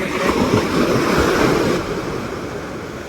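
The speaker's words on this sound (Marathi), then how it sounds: "आता लाट यायला लागली" A wave rushes in on Shrivardhan beach with a broad roaring wash, then recedes into a softer hiss, with wind buffeting the microphone.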